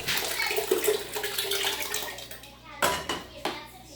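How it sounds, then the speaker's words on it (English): Chicken stock streams into a pot on high heat for chicken soup, a close, bright splashing pour that tapers off, followed by a couple of clunks from the pot. "Now we'll add the stock."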